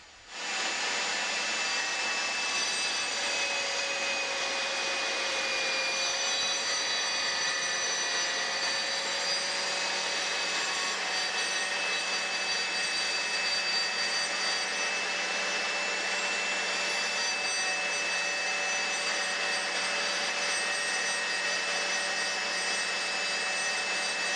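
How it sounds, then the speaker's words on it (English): A GMC laminate saw runs at full speed as a workpiece is fed slowly along the rip fence, a loud steady whine with high tonal hum lasting throughout, no pauses. "Holding the workpiece against the rip fence, slowly feed the workpiece into the saw"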